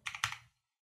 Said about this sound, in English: And then let's just hit double tab.